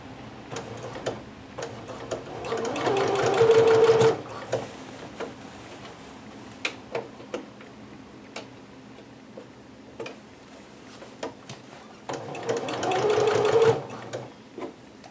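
A domestic sewing machine stitches fabric in two sustained whirring bursts, one early and one near the end, with sparse ticks and small handling clicks in the quieter stretch between.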